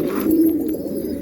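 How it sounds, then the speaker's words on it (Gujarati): Pigeons coo softly nearby, a low throaty murmur over a short stretch with a steady background hum and no voices. "કબૂતર જુઓ ત્યાં લગી"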